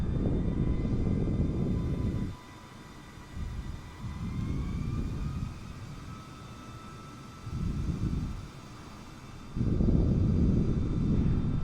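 An Airbus A320neo in Microsoft Flight Simulator taxis off the runway after landing. The steady jet engine whine rises and falls in broad surges, and a thin tonal hum stays underneath. No one speaks.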